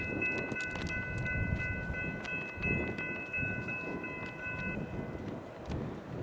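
A westbound Union Pacific freight train rolls through Montour, Iowa, with a steady heavy rumble and clatter of passing cars under a long sustained horn-like tone that fades near the end.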